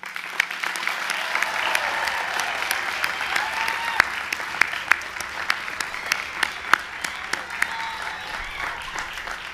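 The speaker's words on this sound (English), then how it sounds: "please join me in applauding greatness, the Johns Hopkins School of Education Class of" An audience applauds at the Johns Hopkins School of Education Class of 2024 graduation ceremony, steady sustained clapping from a large crowd with sharp individual claps standing out.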